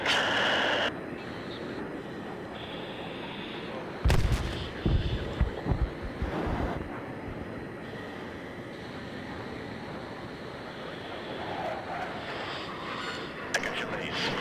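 Deep booming explosions from bombs dropping in Battlefield 3 on the Back to Karkand map, a burst of heavy blasts over a constant rumbling battlefield din.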